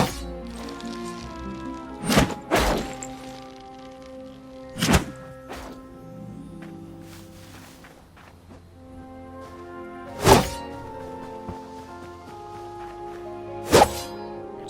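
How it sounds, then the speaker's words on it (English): Spears thrown in the Hytale video game, five sharp thunks landing at irregular intervals over a low, sustained musical backdrop. "here's an example of the kind of accuracy you need to develop if you'd like to become a master of throwing"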